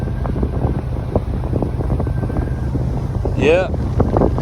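A ferry pulling out of Port Townsend gives a low, steady engine and water rumble under strong wind buffeting the microphone, with a brief voice and a short rising whistle-like tone partway through.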